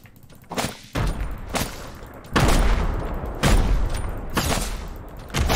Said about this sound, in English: I got you with grenades, dude.